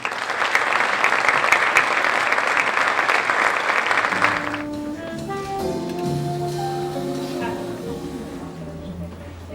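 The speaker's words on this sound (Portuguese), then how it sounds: "gostaria de pedir uma salva de palmas para o Cláudio Oshman, para o Teatro da Trindade e para todo o Inatel" A theatre audience at the Teatro da Trindade gives loud, dense applause during an 80th-anniversary ceremony for the INATEL Foundation; the clapping fills the first four seconds, then stops abruptly as music takes over.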